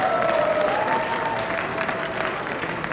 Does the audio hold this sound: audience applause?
yes